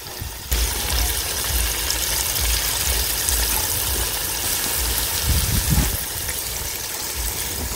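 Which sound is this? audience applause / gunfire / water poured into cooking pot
water poured into cooking pot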